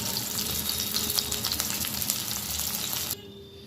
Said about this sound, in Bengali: এইভাবে আমি প্রত্যেকটা ফুলকপি ভালো করে লাল লাল করে ভেজে নেব।